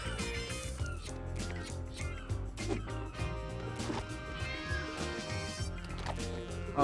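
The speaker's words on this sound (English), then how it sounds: "If you listen closely, you can hear the cat meowing." A cat meows in the LEGO City Undercover video game, a few mewing calls buried in a dense, constant wash of game music and effects that stays loud throughout.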